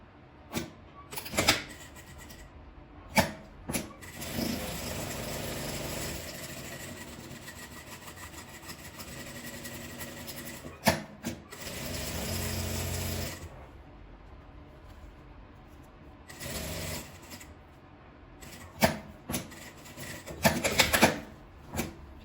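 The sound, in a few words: sewing machine stitching fabric scraps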